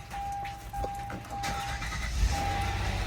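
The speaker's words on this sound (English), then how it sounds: "you hold the brake and you're able to crank the car." A Kia Sorento engine cranking and catching into a start, a close continuous mechanical whir with a steady tone under it, settling into running noise.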